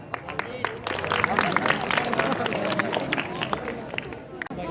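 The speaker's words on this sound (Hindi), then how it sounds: "तो तालियों से स्वागत कीजिए हमारे निर्देशक श्री रणजीत कुमार सर का।" Audience at a school function applauds to welcome the director on stage, a continuous patter of many hands clapping, moderately loud with a faint murmur underneath, lasting several seconds.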